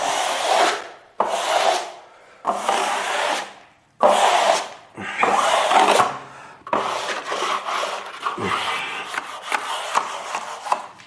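Schlüter Kerdi waterproofing membrane is pressed and smoothed onto tile adhesive in a shower, heard as close, loud rubbing swipes in separate strokes, then a quicker, more continuous scraping.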